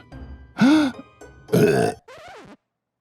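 A person voices a tiny burp with their mouth: two short, loud, throaty croaks and then a softer, higher gurgle, made as a playful imitation.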